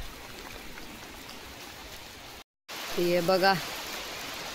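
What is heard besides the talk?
rain falling on drying rice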